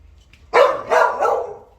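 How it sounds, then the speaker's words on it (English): A pet dog barks three times in quick succession, loud and close, in a quiet indoor room, the first bark sharpest and the last trailing off slightly. "my dog keeps barking at me"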